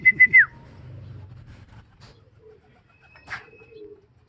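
A few short whistled notes open, followed by soft low cooing of racing pigeons arriving at the loft and a faint bird call, quiet and sparse.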